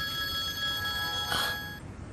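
A telephone rings with a bright electronic tone, one steady ring that cuts off near the end, fairly quiet and alone.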